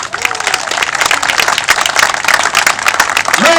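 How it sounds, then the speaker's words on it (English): A crowd at a George Floyd memorial gathering applauds loudly and continuously, dense clapping with some cheering and a few voices mixed in. "clap with your hands, and welcome to the podium, Mr. Reverend Shane Harris."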